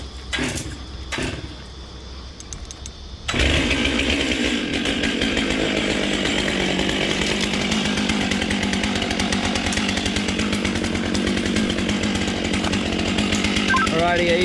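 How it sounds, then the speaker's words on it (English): A chainsaw cuts during crane work: a couple of short revs at first, then after about three seconds a loud continuous cutting roar that holds to the end, with voices speaking over it. "Gotta put the small chainsaw there and then get the big one."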